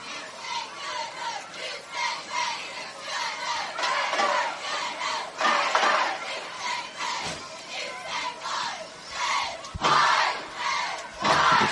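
A high school football crowd roars and shouts in loud, surging waves in the stands, a big mass of voices cheering continuously and swelling in several bursts.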